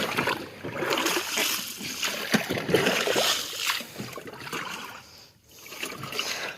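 Water poured by hand onto cotton plants in a field, an uneven splashing and trickling that runs on in bursts with a short break near the end, fairly close, with no clear talk over it.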